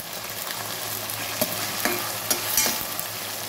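Eggplant and curry leaves frying in oil for Karnataka vangi bath, a loud continuous sizzle with several sharp spoon scrapes and taps against the pan, close up and without talk.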